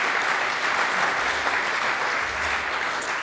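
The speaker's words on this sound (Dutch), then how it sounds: "Ik zou zeggen, applaus voor jullie zelf hierover." An audience applauds after a round of pitches at a youth business challenge: sustained, dense clapping from many hands, steady and fairly loud throughout with no pauses.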